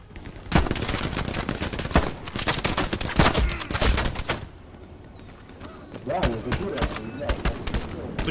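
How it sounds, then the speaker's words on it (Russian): Rapid machine gun bursts rattle loudly and repeatedly in the Eastern Front battles of the World War II shooter Hell Let Loose, with scattered gunshots between the bursts. "а серьезно? Пулемет."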